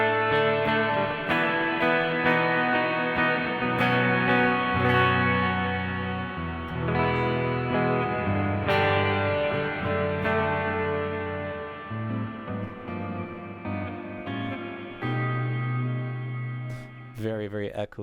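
Guitar played through a Donner Revecho delay/reverb pedal with the decay turned all the way up, chords ringing into a long, washy chamber-like reverb tail that keeps sustaining and blurring together.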